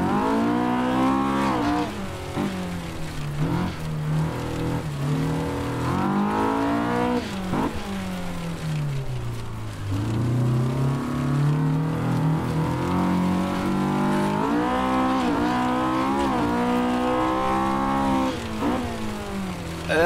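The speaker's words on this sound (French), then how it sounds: "Oh, le moteur, il est bien rageur, hein." A Honda K20 two-litre engine in a junior race car in the Assetto Corsa racing game revs hard and continuously, loud and close, rising and falling through repeated gear changes with no talk.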